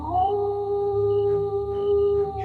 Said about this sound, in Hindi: पास के किसी झाड़ी से एक भूखा सियार चीख उठा।